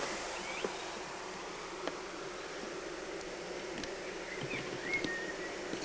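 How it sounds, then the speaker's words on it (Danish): Honeybees fan their wings inside a hive to ventilate it during a heat treatment against varroa mites, making a steady, close, rushing hum with faint scattered buzzes and no voices. "Og det er bierne, der ventilerer."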